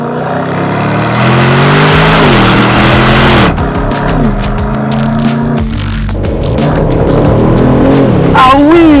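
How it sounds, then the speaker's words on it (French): An Aston Martin DB12 with a V8 biturbo engine accelerating hard in sport mode, its loud, close engine note climbing through the gears with rising sweeps and shift breaks, with a voice speaking over it. "Le V8 biturbo pousse si fort"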